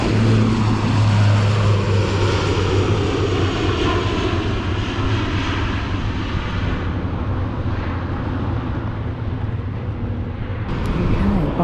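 A KLM airliner takes off at London City Airport, its engines roaring loud and steady throughout with a broad rumbling drone that thins slightly toward the end.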